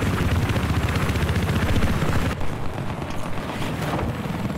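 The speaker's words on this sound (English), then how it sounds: "I'm gonna spawn in our transport chopper and try to bail out over C." A transport helicopter in the video game Battlefield 4 beats with a loud, steady rotor chop and a broad rushing roar close by. The sound thins slightly partway through and continues without any talking.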